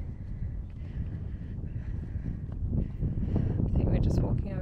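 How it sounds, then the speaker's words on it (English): Wind buffets the microphone at an outback lookout near a car park, a continuous low rumbling roar that grows stronger toward the end, with no clear talk over it. "It's a bit windy."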